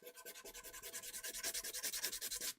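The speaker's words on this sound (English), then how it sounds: "I literally hate sanding." Quick, rhythmic back-and-forth strokes of sandpaper rubbing over a hard guitar body, about twenty even passes in a steady, rasping rhythm.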